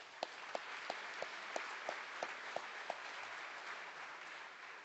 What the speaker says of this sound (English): I think that's worthy of an applause.